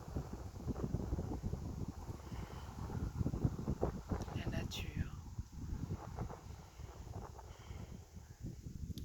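Steady wind blowing outdoors, a broad rushing noise with gusts, under someone talking throughout.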